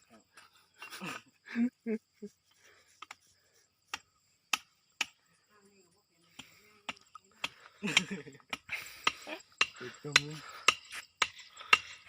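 Sharp, isolated knocks of hammering on bamboo while a homemade bamboo rocket is being assembled, spaced unevenly and growing denser later, with people talking nearby between the strikes.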